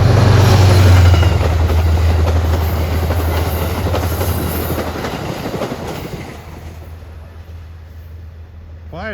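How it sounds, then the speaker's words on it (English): Amtrak passenger train, likely New York to Albany-Rensselaer service, rolling loud and close past Ardsley-on-Hudson station with dense wheel clatter and low engine drone, then fading away as a brief squeal rises at the end. "Approaching is Amtrak's, I believe this is train 237, New York to Albany Rensselaer."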